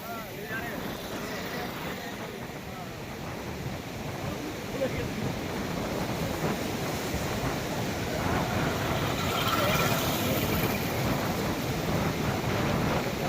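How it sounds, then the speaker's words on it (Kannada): Fast-flowing flood water of a river rushing beneath Ganagapur bridge on the Ganagapur–Bijapur road, a steady loud broadband roar that swells slightly toward the end, with no talk over it. "ನೀರಿನ ಓಟ್ ನೋಡ್ರಿ, ಫುಲ್ ಗಿಚ್ಚಿ ಗಿಲಿಗಿಲಿ ನೀರು ಬಂದದ"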